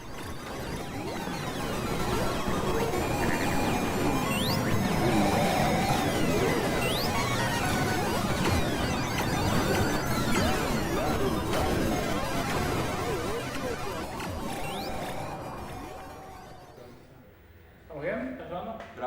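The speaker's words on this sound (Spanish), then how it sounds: "miles de soniditos de filas y filas de fichines en funcionamiento." Dense wash of electronic beeps, chimes and jingles from rows of arcade machines running at once in an arcade hall, loud and continuous, fading near the end as a voice talks briefly.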